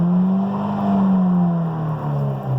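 A Ford Fiesta ST engine, with an artificial engine sound piped into the cabin, drones steadily as it revs, its low rising tone sustained and loud from inside the car.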